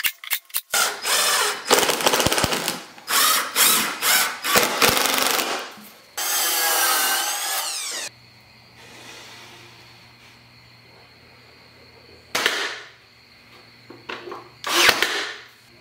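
A router cuts along plywood edges in bursts of loud, rough grinding and rasping, pausing between passes, followed by a quieter stretch with low hum and a couple of short loud passes near the end.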